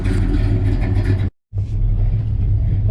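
A 1969 Dodge Coronet 500 rumbles steadily at close range while cruising around the block, its low engine drone loud and continuous, broken by a brief dropout before the rumble resumes.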